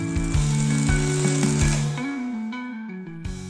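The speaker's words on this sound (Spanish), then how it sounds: "Luego vamos a soldar solamente este lado." Arc welding on steel parts along one side of a metal frame, a steady close buzzing crackle with tonal hum that softens toward the end.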